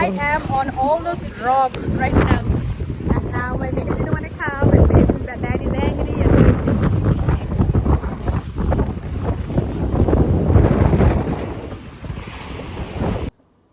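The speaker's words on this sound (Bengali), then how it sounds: "দেখেন কত জোরে জোরে ঢেউ আসতেছে" Rough ocean surf at Saint Pete Beach, Florida, heard from the rocks on a very windy day: a continuous roar of waves and heavy wind buffeting the microphone, with a person talking over it.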